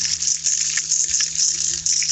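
Water gushes and splashes as a hose rinses muck out of a bucket, a steady loud hiss of spray running without break and close by.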